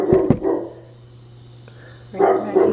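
A dog barks in a few sharp, loud bursts at the start, then goes quiet, and a second cluster of barking returns near the end, heard close up during a long road trip.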